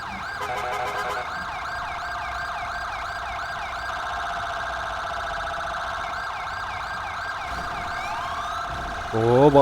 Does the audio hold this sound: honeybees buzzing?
no